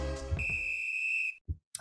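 A referee's whistle blown once, long and steady, to start the first half of a football match, loud and close, followed by brief soft thuds.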